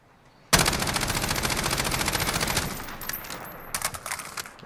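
Rapid automatic gunfire from a CTAR-21 SBR rifle in Call of Duty Modern Warfare, a loud sustained burst of closely spaced shots followed by a few shorter, sparser bursts.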